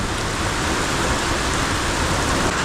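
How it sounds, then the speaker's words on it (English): Heavy hail and rain from a storm pour down in a dense, steady roar of hammering noise, loud and continuous with no voices. "Wow, what a storm. Look at all this hail here."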